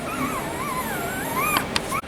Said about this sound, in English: Here's Tango Puppies.